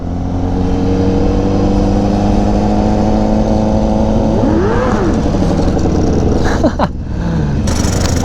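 A Suzuki Gixxer superbike engine at a car meet drones loudly and close, holding a steady high idle with a rising and falling rev in the middle, continuous and dense.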